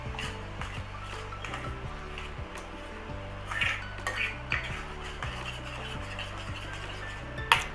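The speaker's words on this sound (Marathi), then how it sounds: "सगळं मिश्रण आंब्याचं हे कोरडं होतं हलवत राहायचं" Mango pulp and rice-flour modak dough mixture stirred in a pan, with steady scraping and clinking of a spoon against the metal and a continuous low hum under it.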